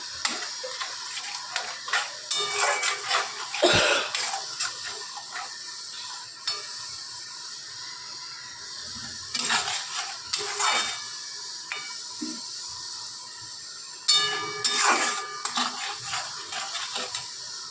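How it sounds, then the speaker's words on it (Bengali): Mixed vegetables are sautéed and cooked down in oil in a pan, with bursts of spatula scraping and clinking against the pan separated by quieter stretches of soft sizzle. "তেল ছেড়ে আসছে ততক্ষণ কিন্তু আমি এটা কষিয়ে নিচ্ছি"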